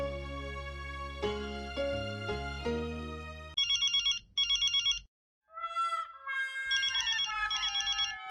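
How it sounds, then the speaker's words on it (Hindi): A phone ringtone plays a repeating electronic melody, followed by bursts of trilling ring tones with short pauses between them, no talking. "फोन बज रहा है, उठाइए ना।"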